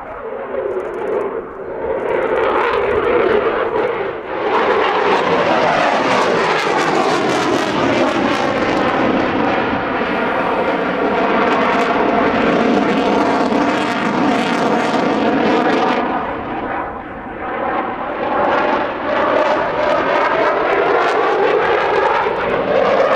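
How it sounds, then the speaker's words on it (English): An aerobatic plane's engine roars loudly and continuously at an airshow as it flies rapid high-G rolls and a loop, the pitch sweeping and wavering as it passes. "a pair of very rapid high G rolls that carries the aircraft away from the crowd on the left 45"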